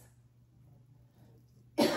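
A single sharp cough from a person with a lingering cough after a cold bursts in at the very end after near silence in a kitchen with a faint background hum.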